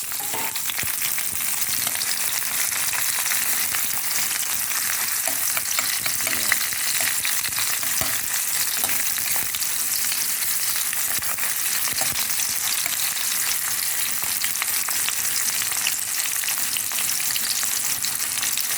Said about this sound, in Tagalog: igigisa muna natin mga idol ng luya, bawang